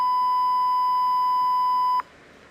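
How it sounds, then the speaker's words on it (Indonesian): A single steady electronic beep from a microcontroller irrigation water-level alarm buzzer, triggered by high water, holds for about two seconds, then cuts off abruptly, leaving faint background hiss. "Nah ini air tinggi, buzzer juga bunyi, notifikasi masuk ya."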